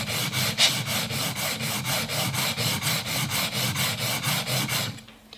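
A blade scrapes back and forth across a diamond sharpening plate in a steady rhythm of about twenty strokes, close and clear, then stops; the blade is from a Japanese Benriner mandoline.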